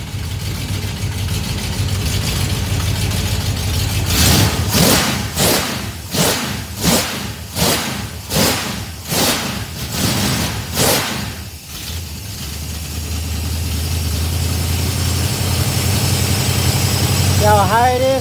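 Car engine idling on a FiTech fuel injection setup, holding a steady hum with a stretch of rhythmic whooshing pulses midway before settling back to an even idle drone, heard close.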